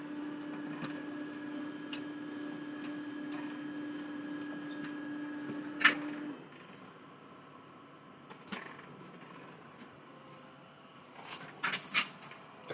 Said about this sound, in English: Oop, there it goes, copying.